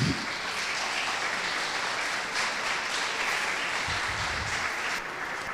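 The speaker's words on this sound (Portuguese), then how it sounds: "Você pode aplaudir a Deus por isso?" A church congregation applauds in a steady, full roar of clapping that holds evenly throughout, with a brief low rumble near the start and end.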